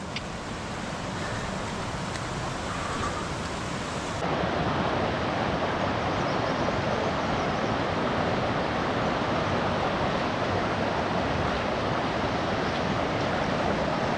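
A river runs beside a walking path in Pauri Garhwal, its steady rushing flow filling the clip with loud, continuous broadband noise and no talk.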